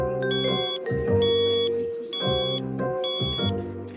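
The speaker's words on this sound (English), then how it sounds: "That's a digital alarm clock." A digital alarm clock beeps in repeated bursts of rapid electronic tones, four or so clusters evenly spaced, loud and close with no voices.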